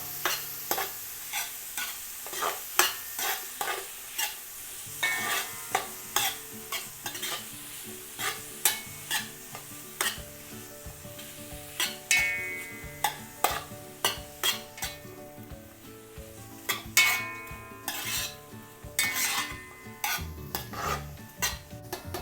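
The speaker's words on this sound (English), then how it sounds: "We're gonna go into our pot with just a little oil, and then we're gonna go ahead and just throw in our fresh seasonings." Fresh seasonings sizzle in a little oil in a soup pot, close, with repeated spoon stirs and metallic scrapes knocking against the pot in an uneven rhythm.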